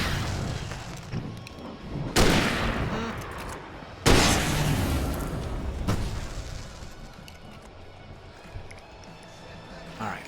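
In Alan Wake Remastered, fireworks go off in three loud, booming bursts spaced a couple of seconds apart, each decaying into crackle and rumble over a noisy action scene.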